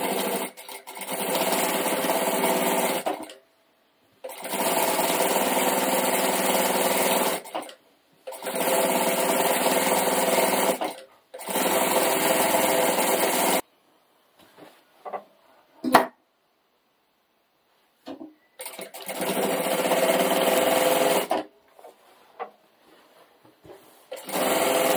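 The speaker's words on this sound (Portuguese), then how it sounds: "Eu vou fazer uma costura pé de máquina pelo lado de fora aqui." A sewing machine stitches a straight seam around the edge of a table runner, running in several steady bursts of a few seconds each with short pauses between, then quieter handling noises and a final burst.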